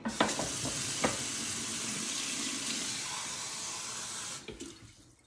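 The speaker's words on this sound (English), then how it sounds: "Now we need just hot tap water." Hot tap water runs from a kitchen faucet in a steady, fairly close hissing stream for about four seconds while tortilla dough is being made, then shuts off.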